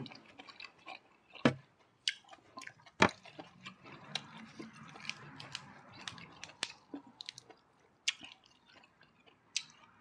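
Chewing of spicy Thai-Isan beef offal soup with tripe and innards, close and wet, with soft squishy bites and occasional sharp clicks of a spoon or bowl over about ten seconds, no talking.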